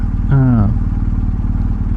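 A motorcycle engine runs with a steady low throb, loud and close. A short voiced sound briefly rises above it.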